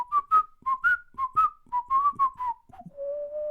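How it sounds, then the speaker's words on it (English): A whistled theme tune, the Joker's signature melody from Batman: The Animated Series, rises and falls in a string of clear, bright notes with short gaps, ending on a longer held tone, heard alone without speech. "The little whistled type theme song that they play for him."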